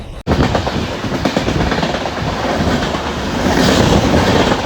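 Inside a moving train carriage, a steady rumble with rhythmic clickety-clack from the rails runs continuously and fairly loud, after a brief dropout near the start.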